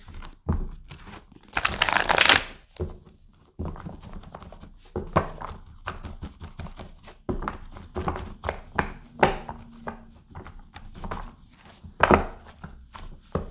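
Shuffling of a tarot card deck by hand: a stream of soft, quick card riffles and taps with one louder burst of ruffling near the start and another near the end, close and fairly quiet.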